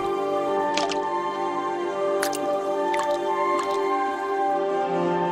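Water drops fall into water, giving a few separate bright plinks and small splashes spaced irregularly over a steady sustained musical tone.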